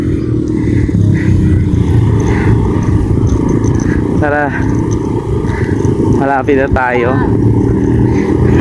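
Motorcycles labor through loose beach sand at Estanza Beach in Lingayen, a steady engine rumble droning beneath close conversation for the whole stretch.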